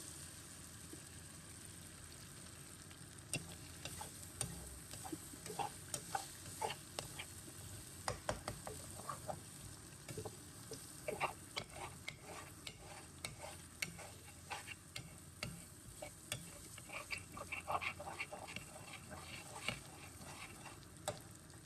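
Two eggs frying in tomato gravy in a pan, a low crackling sizzle with frequent small pops and spatula taps throughout, close but quiet.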